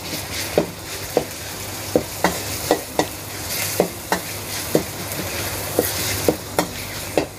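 Minced pork frying in a pan for Thai stir-fried holy basil pork, a constant close sizzle punctuated by regular, evenly spaced clicks and scrapes of a spatula against the pan.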